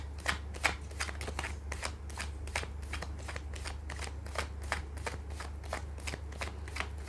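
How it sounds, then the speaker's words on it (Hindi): Tarot cards are riffled and shuffled by hand in a steady run of crisp, papery flicks repeating roughly every third of a second, close and clear over a low background hum. "मैं कर लेती हूँ कार्ड की शफलिंग।"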